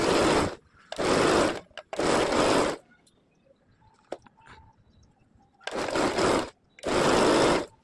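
Bursts of sewing machine stitching on a katori blouse, with five loud, steady whirring runs of about half a second to a second each, separated by quiet pauses with faint handling sounds.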